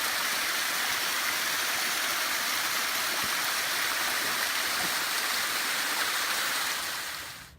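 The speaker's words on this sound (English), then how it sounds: "I think we're at our 4th waterfall." A waterfall on a hiking loop trail at Mt. Diablo roars as a steady, close wash of rushing water, unbroken until it fades out at the very end.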